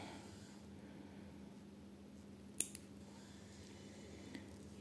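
Scissors snipping through overlock serger seam threads to unpick a stitch, a single sharp close snip followed by a smaller click over a quiet, steady room hum.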